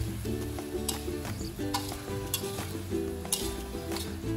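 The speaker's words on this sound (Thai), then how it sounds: "ผัดให้เข้ากันเลยนะครับ" Spicy wild boar stir-frying with basil leaves in a hot pan, steady sizzling broken by repeated scraping and clattering of a spatula against the pan, close and moderately loud.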